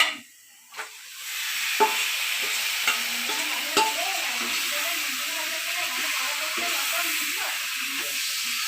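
Duck meat sizzles loudly and steadily in a hot pan after a splash as it goes in, with occasional stirring clinks over the constant hiss.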